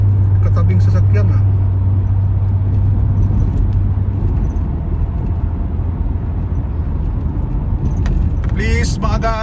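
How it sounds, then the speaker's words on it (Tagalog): A neighboring car's engine revs in slow traffic at a green light, a loud continuous rumble close by with brief higher bursts near the end. "nagre-revolusyon ng katabing sasakyan"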